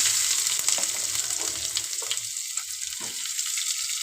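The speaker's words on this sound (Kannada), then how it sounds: "ಸ್ವಲ್ಪ ಸಾಸಿವೆ ಹಾಕೊಳ್ಳೋಣ ಸ್ವಲ್ಪ ಜೀರಿಗೆ ಆಮೇಲೆ ಈರುಳ್ಳಿ" Mustard seeds, cumin and onion tempering in hot oil for a chutney, a loud steady sizzle close by that thins out partway through.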